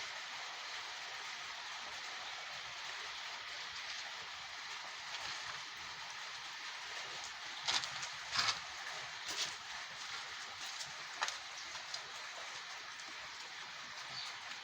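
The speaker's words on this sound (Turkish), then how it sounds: "Yağmur yağıyor arkadaşlar. Yağmur tekrar başladı." Steady broadband hiss of rain falling in a green Turkish village, constant and fairly loud, with a few brief louder patters or drips partway through; no voices.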